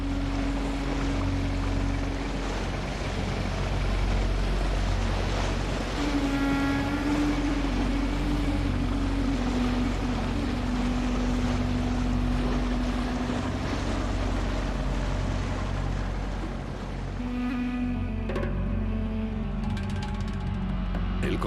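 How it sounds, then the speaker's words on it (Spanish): Barges carrying timber, steel and building materials motor along a canal toward the Yangtze River in China, a steady low engine drone with wind and water wash throughout and a few faint tonal hums, no voices. "Las barcazas transportan madera, acero y otros materiales de construcción por el canal hacia el río Yangtze"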